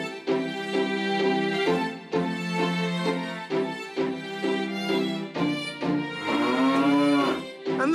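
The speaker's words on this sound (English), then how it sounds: "carrot mooed like a cow." In a children's cartoon, a carrot voices a cow, giving a string of loud, close moos, each one drawn out and rich, with a final long low one that wavers in pitch.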